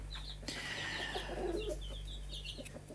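Barbezieux chickens, a large French breed, cluck and call in a poultry yard, with short repeated clucks and a longer crooning note, close by over a steady low electrical hum.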